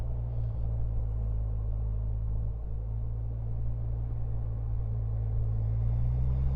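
Rewaco trike with a turbo four-cylinder engine droning steadily while riding, a loud low rumble with wind noise and a slight rise in pitch at the end.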